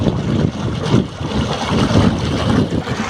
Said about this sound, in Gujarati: આ 2 મોટરનું પાણી છે દોસ્તો